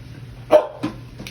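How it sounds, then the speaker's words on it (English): A dog gives three quick barks in a row indoors, the first loudest and the later two softer. "And the dog you hear barking"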